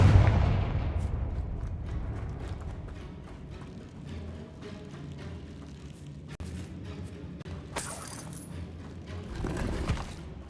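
Confringo spell blast in the Hogwarts Legacy video game, a sharp booming impact at the start that decays into a rumbling echo, followed by faint clinks and rattling debris.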